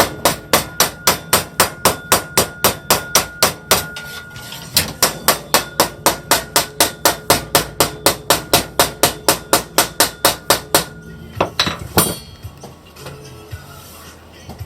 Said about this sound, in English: I'm going to put the heavy hammer here